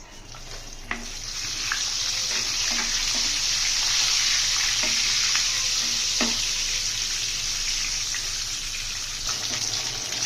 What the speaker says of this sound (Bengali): প্যানে তেল দিয়ে তেলটা গরম হওয়ার পরে আমি ডিমগুলি দিয়ে দিলাম